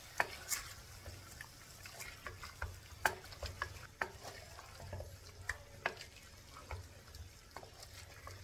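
Soft scraping and stirring of green chilli paste in a frying pan for beef karahi, with a faint sizzle underneath, irregular spoon knocks and clicks, quiet and close.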